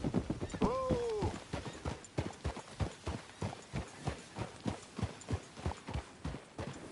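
Horse hooves clip-clopping in an even, rhythmic walk, close and clear, with a high whinny near the beginning.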